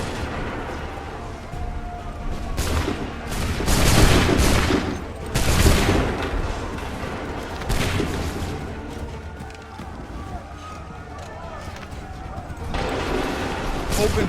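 Musket volleys crack in Assassin's Creed 3, with several loud, broad bursts of gunfire spaced a few seconds apart over continuous battle noise and shouting voices.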